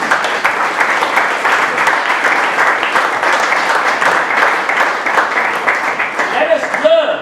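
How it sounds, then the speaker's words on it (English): Steady, full applause from an audience at a fundraiser, continuous dense clapping close by for several seconds, with a brief voice near the end. "So let's applaud John Larter for his wonderful achievement."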